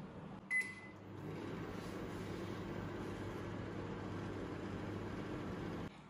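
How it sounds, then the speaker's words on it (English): A microwave oven warming water starts with a beep and hums steadily for several seconds, a quiet, even drone that cuts off at the end. "we'll warm the water in microwave for about 20 seconds"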